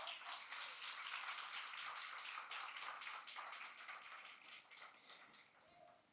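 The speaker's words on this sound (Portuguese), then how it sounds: "Você pode aplaudir ao Senhor por isso?" A church congregation applauds in a dense, steady patter of many hands that carries on for several seconds, then thins and fades toward the end.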